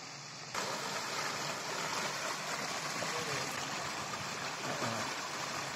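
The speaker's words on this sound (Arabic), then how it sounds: "نهر كاسخ في وادي أشتر." The Kasakh river in a valley in Armenia rushes steadily as a broad, continuous wash of flowing water, fairly loud and unbroken, with faint voices now and then.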